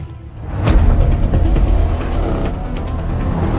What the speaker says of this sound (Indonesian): lalu tancap gas sampai mobil itu terguling